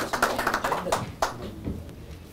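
Brief burst of audience applause for a performer named Pak Nyoman at an Indonesian stand-up comedy final, several quick claps rising and fading over about two seconds, fairly close.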